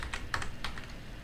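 Keys on a steno keyboard for a Case Cat setup clack in a quick run of light presses, close by and crisp over a low steady background hum.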